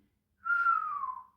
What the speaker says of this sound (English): Sorry about the whistle there